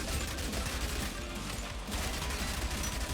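A submachine gun in the zombie survival game Yet Another Zombie Survivors fires without pause, a steady, dense stream of rapid shots mixed with crowded game effects.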